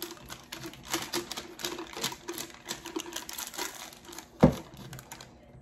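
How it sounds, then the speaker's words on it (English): Tape is pulled off a roll and wrapped around a 20 oz skinny tumbler, a run of close crackling, ticking strips ending in one sharp tearing rip, with no talking. "I'm gonna do about 3 or 4 pieces of tape on here."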